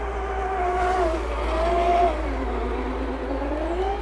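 A huge 50-kilo 10x10 RC truck drives along an outdoor trail, its electric motor whining in steady, wavering pitch sweeps over a constant low hum, close and continuous.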